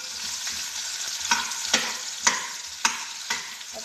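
Onion frying with potatoes in a pan: a steady sizzle with several sharp crackling pops and stirring scrapes at regular intervals, close and moderately loud, with no talk.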